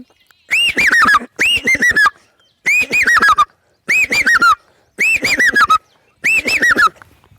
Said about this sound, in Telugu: ఇంకో పక్షి చాలా వెరైటీగా అది పెద్దన్న బెలగాడు అంటారు దాన్ని